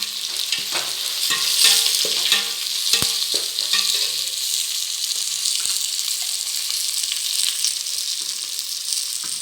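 Curry leaves sautéing in hot oil for a raw plantain biryani, a steady loud sizzle and crackle with spoon stirring scrapes throughout and a sharp pop around three seconds.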